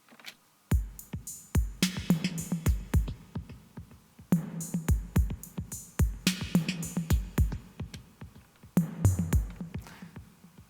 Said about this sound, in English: It's a dotted 8th note, I think, and it's more of a modulation delay